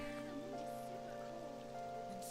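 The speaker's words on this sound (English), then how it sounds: "A neon, electric town, at night, in the rain." Rain falls on a neon-lit town at night in Persona 5, a soft, steady patter blended under sustained instrumental music.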